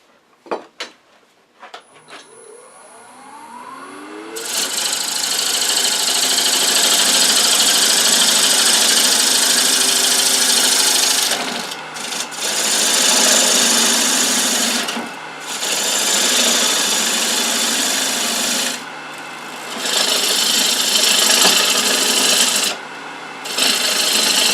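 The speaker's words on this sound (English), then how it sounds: "we're going to just use a bowl gouge and waste this wood away until we have just a cone there" Wood spinning on a lathe while a bowl gouge cuts it down into a cone, making a loud, continuous rasping and shearing roar broken by a few brief pauses between cuts.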